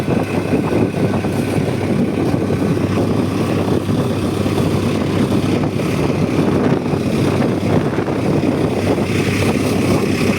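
Motor boat engine running steadily, a loud, continuous low drone with a rough rhythmic chug, close by and uninterrupted throughout.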